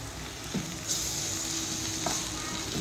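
Ground spices (mutton masala, coriander powder, red chilli, black chilli powder and turmeric) sizzle steadily in hot oil for Khandeshi shev bhaji, a continuous close frying hiss with a few stirring clicks and no talk.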